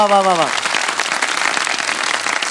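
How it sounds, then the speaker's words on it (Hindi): A studio audience on a television show applauds for a young girl, a loud sustained burst of clapping that follows a brief sung or spoken tone at the start. "ताली बजा दे हमारी बेटी के लिए भाई।"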